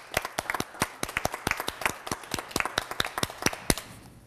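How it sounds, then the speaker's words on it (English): Scattered, fairly quiet hand clapping from a small workshop audience, a steady run of distinct claps with no talking over them. "so can we give her a round of applause?"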